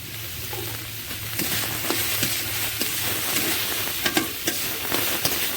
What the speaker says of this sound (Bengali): এবারে আমার তো ভালো করে ডুমুর কষে নিতে হবে